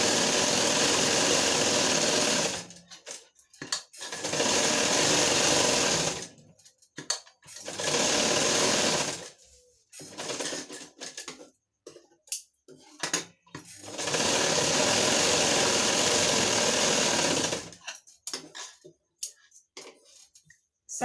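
A sewing machine stitches a princess-cut blouse in several steady bursts of a few seconds each, close and loud, separated by quiet gaps with fabric handling.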